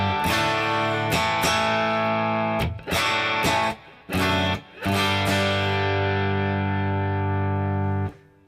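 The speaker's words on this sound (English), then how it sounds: "Telecaster bridge pickup sounds like this." Electric guitar on a Telecaster bridge pickup through a Boss Katana amp, played as loud distorted chords in choppy bursts with short gaps between them, ending in a long sustained chord, with no speech.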